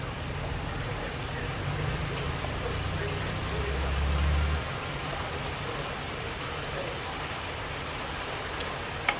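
Rain falling on a rainy morning makes a steady broadband patter and hiss, even and continuous, with a slight swell near the middle and a couple of small knocks at the end.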